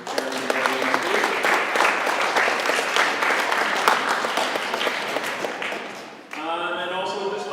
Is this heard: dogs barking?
no